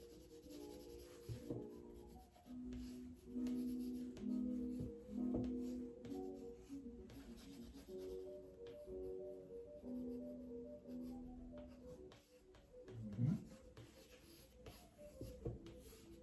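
Soft 6B graphite pencil held sideways and rubbed across paper during an art class, producing quiet scratchy shading strokes in bursts, faint and close, with some tonal background sound mixed in.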